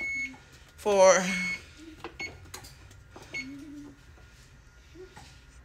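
An oven's control panel gives a few short electronic beeps while it is set to bake at 350, the tones sparse and close, with a person speaking around them.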